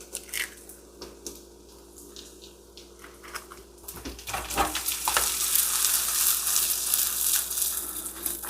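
Corned beef hash hits a pan of bacon grease and butter, and a quiet stir gives way to a loud, steady sizzle that builds and keeps frying close by.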